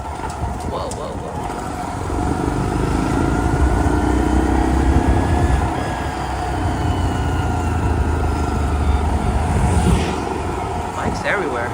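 A motorcycle ridden through Phuket traffic on a rainy, cloudy day gives a continuous engine drone mixed with wind and passing vehicles, steady and fairly loud throughout, with a voice talking over it.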